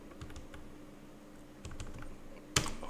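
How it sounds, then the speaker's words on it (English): Typing on a computer keyboard, a faint close patter of irregular key clicks in short bursts, ending with one sharper, louder tap. "I'm very slow in typing."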